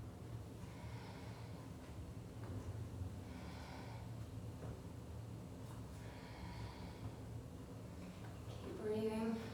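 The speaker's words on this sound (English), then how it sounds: "So breathe a little bit like a car exhaust, I think. Quite noisily." Heavy, noisy breathing during a full-body weight training session, pushed out like a car exhaust, with a steady rhythm of close, rushing breaths.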